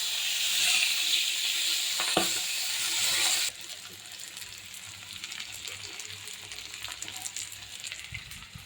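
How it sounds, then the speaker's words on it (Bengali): Pangas fish fries in a pan with an oil sizzle that hisses bright and loud at first, then settles into a softer, steady crackle after a sudden drop, with faint clinks from handling. "তাই পাঙ্গাস মাছ ভেজে ভোনা করে রেখে দেবো।"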